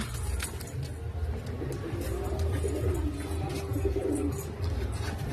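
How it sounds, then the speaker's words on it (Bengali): A female pigeon coos softly in a low, repeated murmur, heard among other birds with a steady rumble of background traffic and clatter. "মাদি পায়রা"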